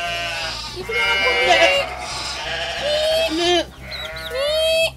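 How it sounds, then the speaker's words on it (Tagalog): A baby goat in rural Palawan, Philippines bleats repeatedly in loud, wavering cries, up close, with people talking over and between the calls. "Ito ang aming baby kambing."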